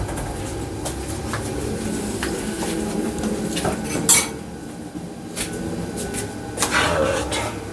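Dishes and cutlery are washed out at a kitchen sink after cooking oxtail with rice and peas, with running water, repeated clinks and clatters of pots and utensils, close and steady, plus a few brief sharp knocks.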